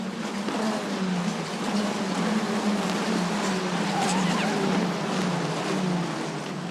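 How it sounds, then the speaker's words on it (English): E4 Championship race cars lap the 5.8 km Paul Ricard circuit at Le Castellet, a loud continuous engine whine rising and falling as cars pass, with a broad roar beneath and no voices. "Still Newman Chi, fastest on the circuit."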